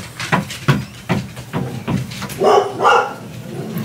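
Several dogs bark in a steady run of sharp, repeated woofs close by, with a couple of higher yips and whines toward the end, in a quiet indoor room.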